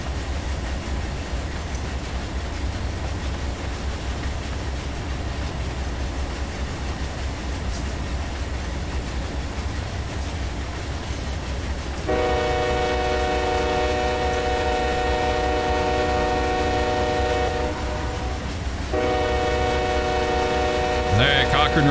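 A heavy freight train hauling 9,000 tons of rock rumbles steadily in a train simulator game. It slows gradually, then a long multi-tone horn blasts twice near the end over continuous engine drone.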